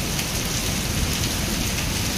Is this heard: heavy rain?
yes